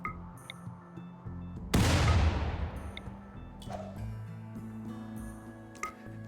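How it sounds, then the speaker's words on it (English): Grenade blast from the RimWorld video game while hunting, a single loud burst followed by a decaying rumble, set among quieter in-game clicks and chimes. "Hunting with nades is tedious."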